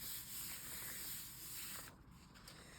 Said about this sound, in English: The more I rub it with my hands, it's just putting a bit more warmth onto the plate